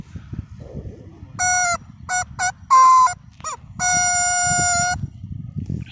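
A rubber chicken squeezed and blown through like a kazoo, giving several loud, buzzy, harmonic honks of varying length, including one long sustained squawk, close up over a low rumbling background.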